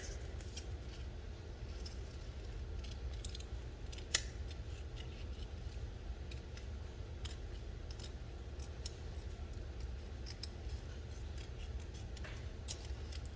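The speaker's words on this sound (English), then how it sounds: "I cut as close to my image as possible without messing up my image" Scissors snip steadily around a paper image for a Christmas Eve box craft, a quiet run of soft close cuts and paper rustle with a few sharper clicks, no talking.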